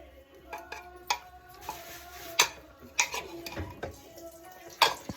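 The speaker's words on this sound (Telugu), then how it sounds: "నాటుకోడి పులుసు కాదు, నాటుకోడి ఫ్రై చేసుకుంటున్నాము" Country chicken (natukodi fry) is stirred in a pan. A metal utensil knocks and scrapes against it in irregular, sharp clanks over a faint sizzle, with brief soft sounds in between.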